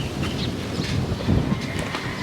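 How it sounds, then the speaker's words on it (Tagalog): Strong wind roars and buffets the microphone in a continuous low rumble, with gusts swelling briefly; no voices are heard. "Lumalakas ang hangin."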